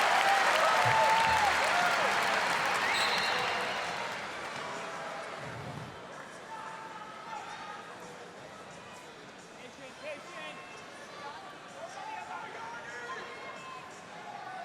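Crowd noise swells loudly at a freestyle wrestling match during a scoreless flurry of action, the cheering and applause strongest at first then settling into a steady murmur beneath a commentator's voice.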